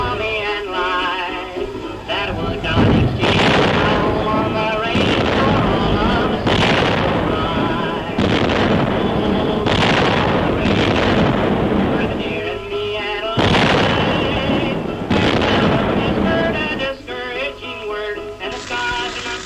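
Enemy artillery shells bursting in a 1944 RAF wartime newsreel, a run of loud heavy booms at irregular intervals with rumbling tails, each blast close and dominating the track.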